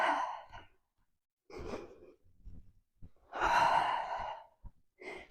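Breathy exhalations during a Pilates mat workout, a few separate puffs of air of varying length, fairly close and moderately soft, with gaps of quiet between them.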